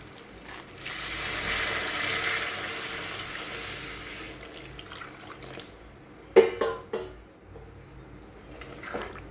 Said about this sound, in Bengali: সেই গরম জলটাকে দিয়ে দেবো।